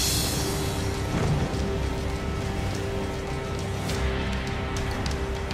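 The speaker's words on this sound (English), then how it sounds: "It's starting to rain a little bit, not too nice." Light rain patters on the deck of a fishing boat at sea, a steady broadband hiss over low engine and wind noise, with no one talking.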